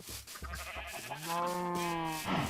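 A sheep in the Minecraft video game gives one drawn-out, wavering bleat, loud and close, following a few soft clicks and taps from the game.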